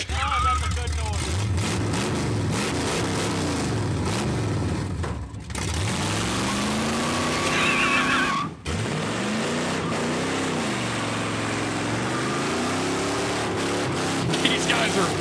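A 1968 Dodge Charger, rusty and unused for 35 years, runs its engine loudly throughout, with repeated revs rising and falling and two brief dips in the roar.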